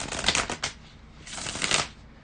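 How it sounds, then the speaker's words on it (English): Tarot cards being shuffled by hand: two quick papery riffling bursts, close and clear, with a brief pause between them and no talking. "bear with me just a second, guys, to shuffle the cards"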